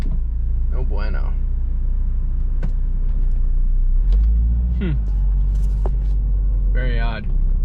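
A Saab 9-3 with a faulty transmission idles with a heavy, steady low rumble as reverse gear is engaged, a deeper thud-like swell midway through, while someone talks intermittently close by.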